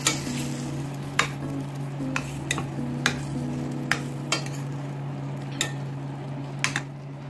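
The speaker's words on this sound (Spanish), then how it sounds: "voy a agregarle los camarones. Y moverlos hasta que queden en un color anaranjado." Shrimp sauté in a pan under a steady low sizzle, while a utensil scrapes and taps against the pan in regular, close strokes roughly once a second.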